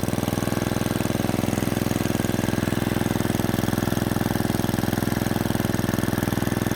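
A freshly rebuilt Kohler K91 small engine idles close by with a fast, even, chugging beat and a faint knock, running steadily with no talking.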